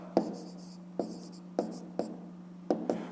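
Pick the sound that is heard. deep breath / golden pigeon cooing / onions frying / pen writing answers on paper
pen writing answers on paper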